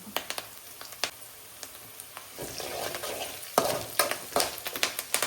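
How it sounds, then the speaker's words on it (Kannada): Garlic and asafoetida fry in hot oil for a homemade pickle, giving a steady close sizzle with sharp spoon scrapes and clicks against the pan, louder and busier in the second half. "ಅಮ್ಮ ಇಲ್ಲಿ ಬೆಳ್ಳುಳ್ಳಿನ ತುಂಬ ಚೆನ್ನಾಗಿ ಫ್ರೈ ಮಾಡ್ಕೊಳ್ತಾ ಇದ್ದಾರೆ."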